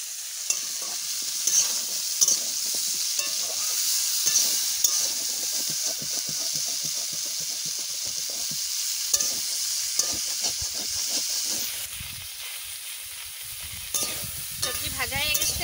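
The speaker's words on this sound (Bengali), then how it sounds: "সবজি ভাজা হয়ে গেছে" Vegetables fry in a pan on a clay stove for a taro-leaf (kochu shak) dish, a continuous close sizzle broken by frequent scraping stirs at an irregular rhythm, with no voices.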